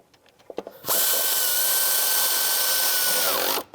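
A power drill or driver tightens knock sensor bolts on a 2006-2011 Cadillac DTS engine, running in one loud, steady whir for nearly three seconds after a few light taps and clicks, then winding down.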